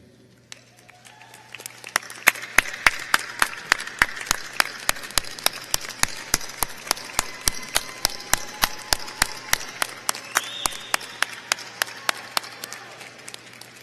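Graduation ceremony crowd applauding families and friends of graduates: sharp, evenly spaced claps in a steady rhythm, building from a few hands to a dense, loud round in a large hall.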